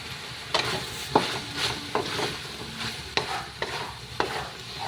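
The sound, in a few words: string beans being stirred and frying in a pan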